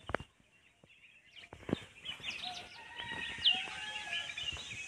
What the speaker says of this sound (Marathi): कोंबडा देखील आरवतोय